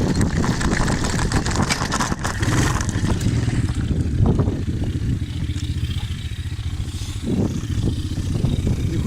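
A Chinese 125cc four-stroke quad in a bumpy field runs close by with a steady, loud, rattling engine drone and clattering mechanical noise, holding a fairly even idle throughout.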